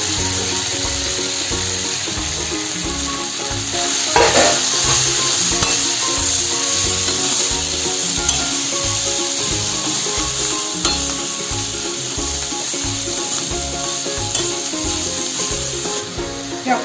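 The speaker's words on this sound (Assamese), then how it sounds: "এতিয়া মাটিকান্দুৰী শাকখিনি ঢালি দিয়া হৈছে।" Matikanduri greens frying in hot oil give a loud, steady sizzle with rhythmic scraping and stirring strokes throughout.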